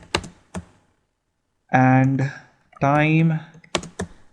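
Bursts of computer-keyboard typing, someone entering C code for a simple interest program, come as quick clicks before and after someone speaks briefly.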